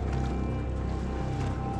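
Waves on the Nile knocking against a rope-stitched wooden boat carrying a limestone block, a low, loud, rhythmic rumbling and sloshing with repeated pulses, close by and without voices.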